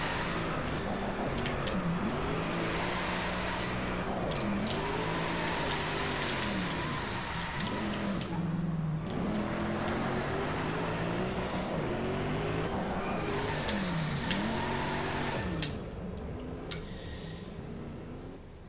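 Hennessy Venom GT supercar engine in Driveclub drifting on a wet track at Goshodaira, Japan, a continuous loud revving roar that rises and falls through repeated gear shifts and slides, with hiss of rain and spray underneath.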